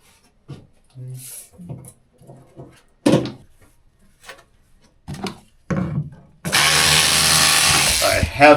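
Scattered clicks and knocks mix with speech, then a loud, steady buzzing motor of WBT-2 electric scissors cutting runs close by for the last couple of seconds, on a sailboat.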